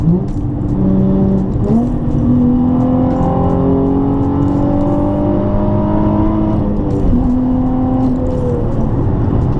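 Nissan 350Z with its muffler deleted, exhaust droning and rising in pitch as the engine revs and pulls through gears, loud and close inside the cabin with no talking.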